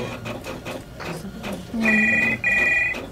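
A mobile phone ringing, with two bursts of repeated electronic ringtone tones after a stretch of indistinct rhythmic background sound, fairly loud and close, with no speech over it.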